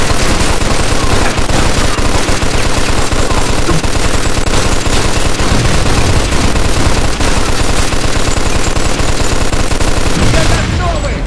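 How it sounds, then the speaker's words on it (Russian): Dense, loud gunfire from the Mafia 2 video game, continuous overlapping shots and bursts sustained throughout with no pause. "Хватит уже палить! Я и так оглох наполовину!"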